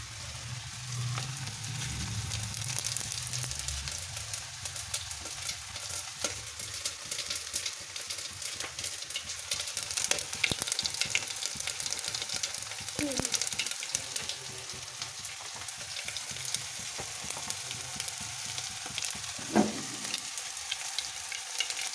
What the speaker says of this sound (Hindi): तेल हो गया एक गरम। अब इसमें डालेंगे, ये है थोड़े से काली मिर्च और लौंग, इसमें है हींग